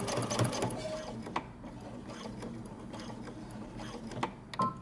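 A sewing machine stitches across the box of a Henley shirt placket after pivoting, its steady mechanical whir running close and continuous with small clicks and bumps.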